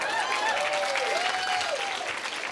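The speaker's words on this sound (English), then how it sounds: "Most of you clapped." A comedy club audience applauds steadily and fairly loudly, a dense wash of many hands clapping at once, with a bright tonal sweep gliding across the crowd noise.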